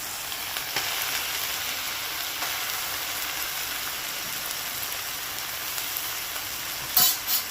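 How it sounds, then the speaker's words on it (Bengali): Ground cabbage paste fries in a pan with shrimp paste, giving a steady, close sizzle with a short clatter of stirring near the end. "এইবার ভালো করে ভাজতে হবে"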